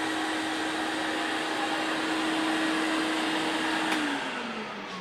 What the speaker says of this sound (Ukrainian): Включилася торцовка, включився пилосос.